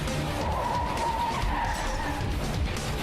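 Car tires skid and squeal loudly over a roaring engine in a Death Battle animation of Joker versus Sweet Tooth, a sustained screech with motor rumble filling the whole stretch.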